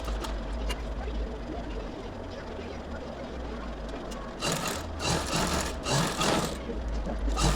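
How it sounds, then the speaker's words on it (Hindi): A sewing machine stitching along the folded edge of a short kurti, with a steady low motor hum that rises into louder bursts of rapid stitching near the end. "तो कट के लिए इसी तरह हम फोल्ड करके यहाँ से सिलाई लगा लेंगे।"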